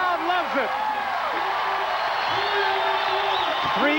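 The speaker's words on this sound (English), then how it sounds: "The crowd loves it." Crowd cheering and whooping at a 1992 AVP beach volleyball final in Clearwater, a steady loud roar of spectators with a commentator talking over it throughout.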